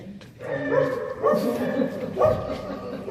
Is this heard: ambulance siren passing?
no